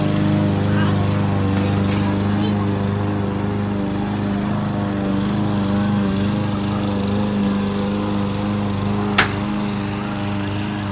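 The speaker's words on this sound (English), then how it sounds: "once again, he's back with the mower." An outdoor lawn mower engine drones steadily and fairly loud for the whole stretch, with a constant rough hum. A single sharp click sounds near the end.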